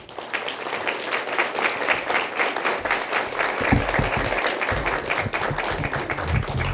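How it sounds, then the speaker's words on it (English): Audience at a Killeen city council meeting giving a round of applause, many hands clapping in a dense, sustained burst that carries on for several seconds with a few heavier thumps underneath. "Will you please give them a round of applause?"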